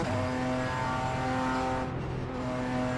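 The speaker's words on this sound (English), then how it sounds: "the sound at the BMW M4 GT4 sounds really cool" A BMW M4 GT4 race car engine in a racing video game drones steadily at high revs, a rich harmonic growl that holds constant throughout with a slight dip near the end.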